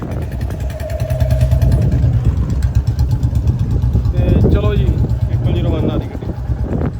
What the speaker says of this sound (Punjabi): ਹੁਣ ਦਵਿੰਦਰ ਸਿੰਘ ਜੀ ਨੇ ਬੁਲਟ ਵਾਪਸ ਮੋੜ ਲਿਆ ਤੇ ਚੱਲੇ ਆ ਵਾਪਸ